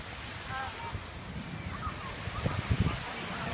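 Ocean waves washing onto Waikiki Beach, a steady soft surf wash with light wind, faint and fairly distant, with indistinct beach chatter in the background.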